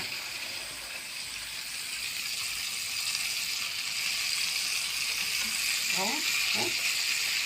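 Fish frying in oil in a pan, giving a steady broadband sizzle throughout, close and moderately loud, with a few brief utensil rattles near the end.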